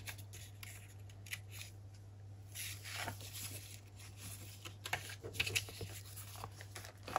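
Scissors cut around laminated washi tape ephemera in close, soft snips and plastic rustles. The rhythm is uneven and a low steady hum runs underneath.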